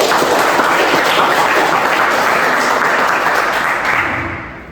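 Students in a classroom applaud together in a loud, dense burst of clapping that holds steady for several seconds before tapering off at the end, with no talking over it.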